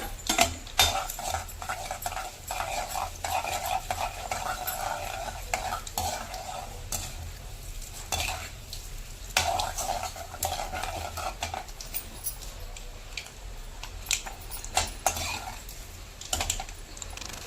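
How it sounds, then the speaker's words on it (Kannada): Urad dal crackles in hot oil with mustard seeds in a pan, a steady sizzle broken by frequent scraping and clinking strokes of a spoon, close and continuous, with no talk. "ಇವಾಗ ಉದ್ದಿನ ಬೇಳೆ ಹಾಕ್ತಾ ಇದ್ದೀನಿ"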